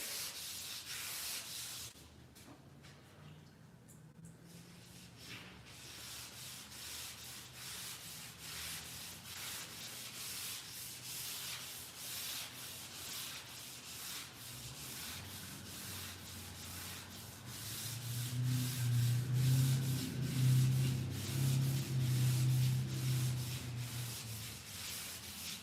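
400-grit sandpaper wet-sands the body of a Dodge Dart in a steady, continuous rubbing hiss, with no talking. The strokes grow louder and heavier toward the end.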